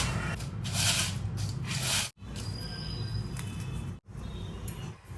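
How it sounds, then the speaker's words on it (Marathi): Cooled edible gum (dink) is crushed by hand, making repeated dry, gritty rubbing and crackling bursts up close, broken by two brief pauses. "डिंक थोडा थंड झाला आता त्याला हाताने चिरून घेते"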